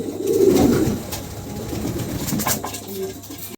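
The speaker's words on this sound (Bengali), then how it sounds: "খুবই চমৎকার একটা কবুতর" A top-quality pigeon coos close by, with a low, rounded burst of cooing near the start that fades into quieter, softer murmurs against faint background noise.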